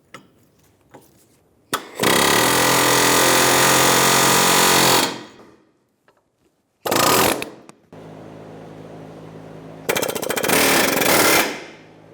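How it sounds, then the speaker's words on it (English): Loud, rapid pneumatic hammering in three bursts separated by short pauses, a harsh mechanical chattering close by with no talking: an air hammer with a chisel bit popping rivet heads off a front lower ball joint on a 2000-2007 Ford Focus. "Using an air hammer with a chisel bit, we're going to pop all of the heads off of these rivets."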